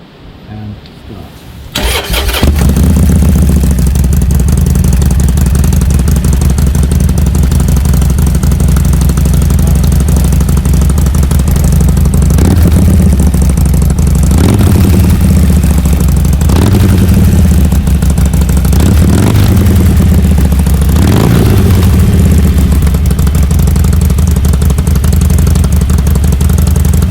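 A 2019 Harley-Davidson Iron 1200 fitted with Cobra slip-on exhaust mufflers starts up, then idles loud and close with a deep lumpy rumble, punctuated by several throttle blips swelling and falling back.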